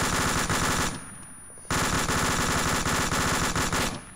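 Automatic gunfire in a video game hammers out in long, loud, rapid bursts. A brief pause breaks the firing before it resumes.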